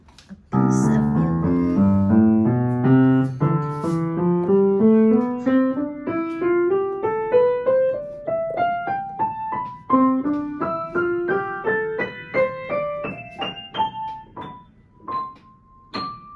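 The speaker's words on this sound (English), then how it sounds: "That's the sound of the piano." A piano plays a rising run of single notes, starting low and climbing steadily up the keyboard, each note struck cleanly and ringing briefly, close and solo with no voices.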